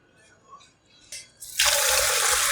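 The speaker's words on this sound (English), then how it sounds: "rinse this noodle cool water with cool water." Cool water runs from a tap over cooked noodles for black bean noodles, starting with a few small clicks and splashes before a loud, steady rush of water pours on close by.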